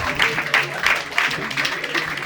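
A comedy club audience applauds in short, rhythmic bursts of clapping, moderately loud, with a voice talking over it.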